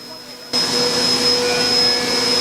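A machine tool starts up abruptly into a loud, steady whine with a high-pitched tone, running continuously as it machines engine exhaust valves.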